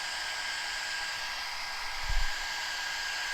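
A hair dryer blows steadily and close up to dry screen-printed ink on a transfer, a constant airy rush with a brief low thump partway through and no talk.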